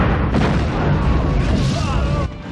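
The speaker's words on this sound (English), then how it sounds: "you will see explosion of cars," Car explosions in an action film set across Japan, San Francisco and Vancouver: a loud, dense booming blast that fills the clip and rumbles on before cutting off sharply near the end, with a faint voice underneath.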